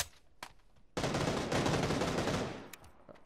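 Rapid automatic gunfire from the battle-royale shooter PUBG bursts in loudly after a few faint shots, holding as a dense sustained volley for about a second and a half before trailing off into scattered distant pops.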